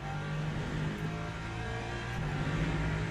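An LMP3 race car in the racing game Le Mans Ultimate holds a steady, droning engine note at moderate volume, fairly constant with slight pitch shifts throughout, no talk.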